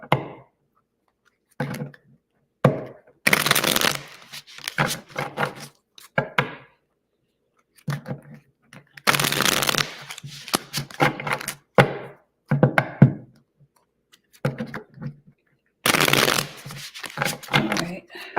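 A deck of cards is shuffled in several bursts of close, crisp riffling, with quiet gaps and soft thumps between them as the cards are squared, and some talk in the background.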